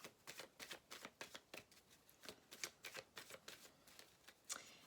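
Tarot cards being shuffled close up in a rapid rhythmic run of crisp papery flicks, quiet and uninterrupted by talking.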